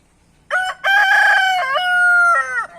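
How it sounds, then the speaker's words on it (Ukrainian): A fighting rooster crows loud and close, a long ringing cock-a-doodle-doo with a rising start and a drawn-out, wavering tail, heard alone. "Мій півник бойовий викликає на дуель того півника."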